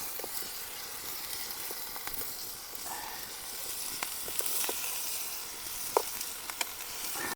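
Vegetables frying in a small kadhai give off a steady, fairly soft sizzle, with occasional light pops and clicks of stirring scattered throughout.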